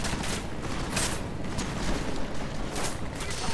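Sniper rifle shots in Deus Ex: Mankind Divided crack out as a series of sharp bursts roughly every half second, loud and close over a rumbling, noisy battle backdrop.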